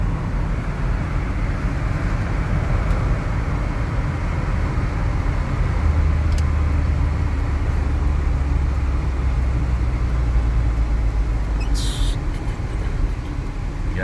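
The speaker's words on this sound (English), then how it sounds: "Yeah, the traffic is insane." Road traffic in Mooresville, North Carolina, rumbles past as a constant broad roar, with a heavier low vehicle drone building through the middle and no voices.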